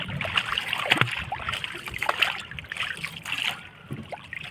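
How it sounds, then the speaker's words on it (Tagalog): Paddling a small wooden boat out to sea, with soft water splashes and trickling strokes repeating over steady outdoor ambience. "Ito, tayo mananagwan pa papuntang laot."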